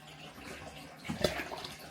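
Water poured into a pitcher garnished with lemon in a home kitchen, a short liquid splash that swells briefly near the end over a faint background hum.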